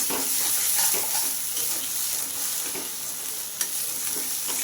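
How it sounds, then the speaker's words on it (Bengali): Moringa leaves and sesame fry in a pan with a close, steady sizzle, broken by scraping stirs and one brief utensil clink. "খুব ভালো করে ভাজা ভাজা করে আমি নামিয়ে নেব"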